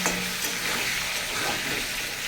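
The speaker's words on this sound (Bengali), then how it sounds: "আলুটা ভেজে নিই নুন দিয়েছি" Potatoes frying in a pan, a loud continuous sizzle with a steady crackle and no talk.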